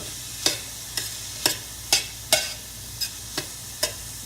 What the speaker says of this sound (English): What we doing now is getting that onion kind of soft.